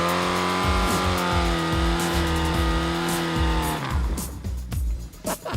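A homemade amphibious motorcycle's engine catches after a push start and revs hard, rising whine with rhythmic bursts, then drops off into rustling and scuffling near the end; loud and close, no voices.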